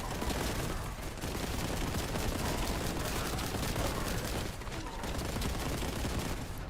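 Dense, continuous gunfire from the video game Boltgun rattles without pause, a busy barrage of shots at a fairly low level.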